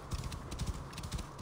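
A horse galloping in Assassin's Creed Origins, a quick, quiet, rhythmic clip-clop of hooves moving at pace, continuous and without speech.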